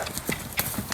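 A horse canters under a rider during a desensitizing training session, its hoofbeats landing in a quick, light three-beat rhythm of soft thuds, fairly close and clear, with no talking over them.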